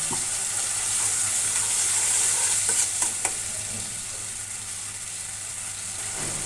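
Chopped tomatoes fry with salt in a hot pan, a loud continuous sizzle close up with a few faint stirring clicks near the middle and no voices.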